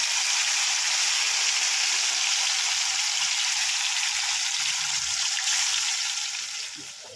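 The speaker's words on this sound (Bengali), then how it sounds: "আর একদিকে মাছ ভাজা হচ্ছে" Fish frying in hot oil in a village kitchen, a loud, steady, close sizzle that continues without pause and eases off slightly at the end.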